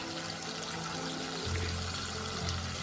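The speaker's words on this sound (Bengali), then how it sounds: "দিয়ে আরেকটু জল আমি দিয়ে দেবো।" Water poured into a pan of bitter gourd curry with turmeric and salt, a steady close trickle that deepens and strengthens partway through, running alone without talk.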